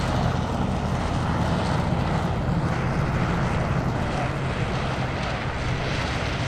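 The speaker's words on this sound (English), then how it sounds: "the global flying display debut of the Cora eVTOL, built by Wisk, a subsidiary of Boeing" The Wisk Cora, a two-seat electric eVTOL prototype, flies in a display at EAA AirVenture Oshkosh 2023, producing a continuous dense whirring rotor roar at steady level, with outdoor wind noise mixed in and no speech.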